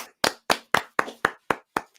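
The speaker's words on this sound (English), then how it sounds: "Round of applause, everyone" Steady, evenly spaced handclaps, about four per second, crisp and close with silence between each clap, at a football club's season awards.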